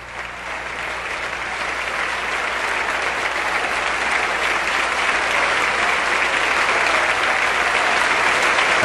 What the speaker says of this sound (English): you can hear the sustained and very enthusiastic applause